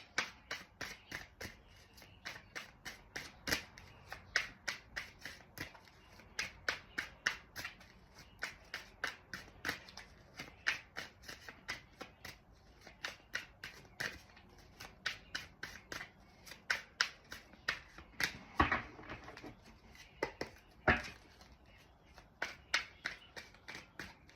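A deck of oracle cards is shuffled by hand in a quiet room, producing soft, crisp riffles and taps in an irregular rhythm that continues steadily and close by.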